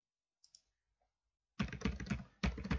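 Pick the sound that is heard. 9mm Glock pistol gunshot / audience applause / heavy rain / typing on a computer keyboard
typing on a computer keyboard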